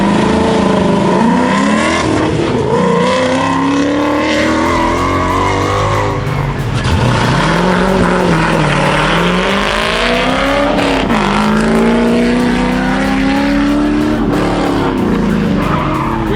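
Several cars race through an autocross course, engines revving loudly and tires skidding and squealing through turns, with a modified Mustang among them; the engine and tire noise stays close and continuous with no talk.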